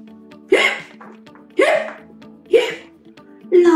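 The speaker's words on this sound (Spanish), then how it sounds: "La ovejita le había dado hipo" Four sharp hiccups, evenly spaced about a second apart, sound close and loud over a faint low background hum as part of a children's story read aloud.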